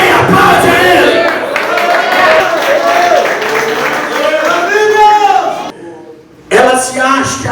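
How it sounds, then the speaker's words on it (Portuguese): A Portuguese-speaking church congregation claps and shouts praise during a service, loud and close, with many voices crying out over the applause. It briefly drops toward quiet before the shouting surges back. "Aplaude a ele."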